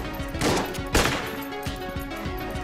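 Sniper gunfire in Enter the Gungeon, two bright punchy shots about half a second apart followed by lighter rapid pops over a looping game soundtrack.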